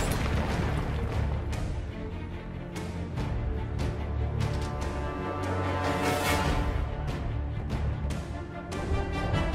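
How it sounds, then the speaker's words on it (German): Booming blasts and bursts from a video game grenade explosion, sounding repeatedly over a dense, continuous bed of rumbling battle noise with sharp transients throughout. "Ich werfe Granate! Vorsicht!"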